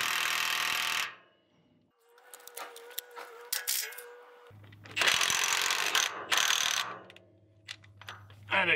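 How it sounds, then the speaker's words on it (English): A Milwaukee M18 FUEL 2867-2 one-inch cordless impact wrench hammers on a decades-old nut on a lift cylinder pivot, with loud rattling bursts separated by pauses and short clanks of handling in between. "Let's see if we can tighten the nut with this gun and see if the 3/4 can take that off."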